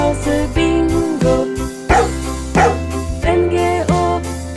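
Children's song with a dog barking to the beat, repeated sharp barks at regular intervals over bright sung melody and backing instruments.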